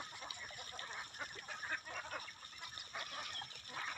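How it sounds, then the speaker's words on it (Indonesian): A flock of ducks being herded through a rice paddy quacks and chatters continuously, a faint, busy mass of overlapping calls at a distance. "Untuk itik-itik yang saya gembala ini"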